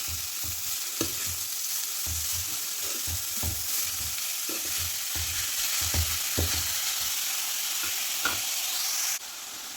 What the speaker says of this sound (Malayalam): പിന്നീട് കട്ട് ചെയ്ത് വെച്ച പാലച്ചീര ഇട്ട് കൊടുക്കാം. എല്ലാം കൂടി ഇട്ട് നല്ലതുപോലെ ഒന്ന് ഇളക്കി കൊടുക്കുക.